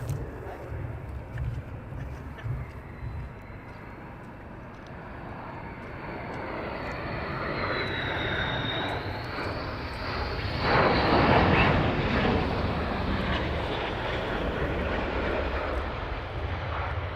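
Fighter jets of the 492nd arriving at RAF Lakenheath, a loud sustained jet roar that swells toward the middle as the aircraft approach and pass, with a rising whine.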